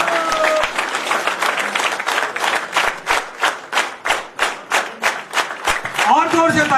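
A crowd at a Karni Sena workers' conference in Jharkhand claps in a steady, rhythmic beat, each clap sharp and unison, loud and sustained, with a voice speaking over it.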